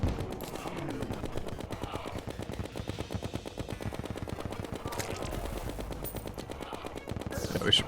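Rapid automatic gunfire from a video game, a dense unbroken rattle of shots running throughout at steady volume, with a few louder bursts near the end.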